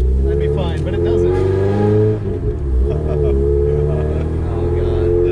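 Honda Civic engine with a loud, rough exhaust revving steadily near the mic, its harmonic drone rising and falling at mid revs around 3,000 rpm, with people talking over it.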